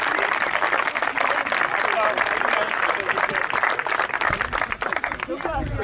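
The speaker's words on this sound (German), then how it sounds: "bitte nochmal einen herzlichen Applaus" Crowd clapping at a tractor race in Biebesheim fills the clip, a busy spatter of hands with voices talking over it.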